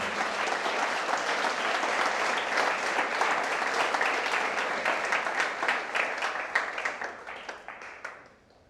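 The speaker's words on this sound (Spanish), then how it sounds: "Ahora, démosle un aplauso al Señor Jesucristo." A church congregation gives loud, sustained applause that fills the room with dense clapping and then thins out and fades toward the end.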